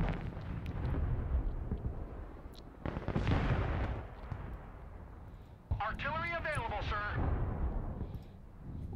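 Artillery barrages in the military strategy game Broken Arrow land as heavy rumbling blasts and bursts in a 5v5 multiplayer match, with a voice speaking over the later explosions.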